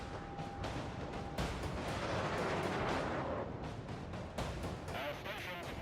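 Naval gunfire from a heavy cruiser in a warship combat video game, dense overlapping booms and rumbling blasts filling the scene continuously, with several sharper bursts standing out over the din.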